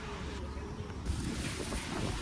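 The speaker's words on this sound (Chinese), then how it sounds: "听听这风呼呼叫" Strong gusty wind roars past a roadside snack cart among dozens of food stalls, a steady close rushing noise that swells into a louder gust about halfway through and stays heavy, with no talking.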